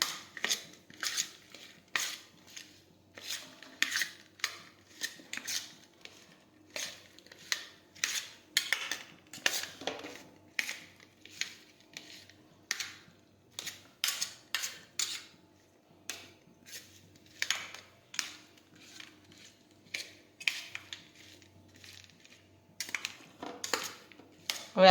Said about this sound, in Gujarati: હવે આ રીતે આપણે બધો મસાલો છે તે મિક્સ કરી દઈશું